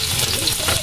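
Sliced ginger sautéing in a hot pan, a steady close sizzle and frying hiss with light stirring throughout the short moment.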